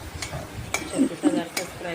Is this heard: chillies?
yes